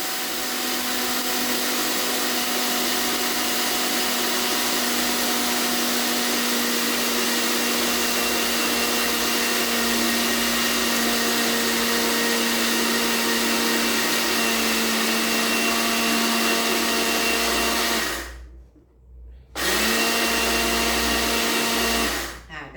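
An electric grinder runs steadily, grinding roasted rice as a continuous loud whirring drone, then cuts out briefly near the end before starting up again.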